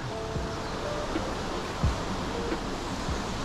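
Steady broadband roar of a waterfall on a mountain trail during a winter mountain-bike day camp, continuous and fairly loud, with faint wind and small handling knocks and no talking.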